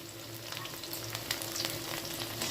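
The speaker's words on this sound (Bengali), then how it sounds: "এবার ফোড়নে দিয়ে দেব কালো জিরে, দেবো কুচি করে রাখা কাঁচা লঙ্কা, দিয়ে দেবো আদা বাটা।" Black cumin, chopped green chilli and ginger paste tempering in hot oil make a dense, crackling sizzle with small pops, steady and close, with no talking.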